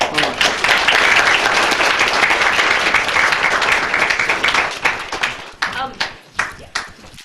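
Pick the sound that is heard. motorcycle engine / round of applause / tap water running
round of applause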